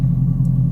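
A straight-piped Dodge Challenger R/T gives off a deep, steady exhaust rumble, loud and close, heard alone for a brief moment.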